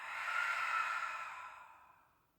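A single slow, soft exhale during a vinyasa yoga flow, close and breathy, swelling gently and then tapering away into silence.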